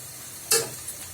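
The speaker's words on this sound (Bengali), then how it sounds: "পেঁয়াজগুলি হালকা বাদামি কালার হওয়া পর্যন্ত নাড়তে থাকবো" Sliced onions sizzle in a hot pan while being stirred until light brown, with one short bright scraping sizzle burst and a smaller follow-up, set over a quiet background.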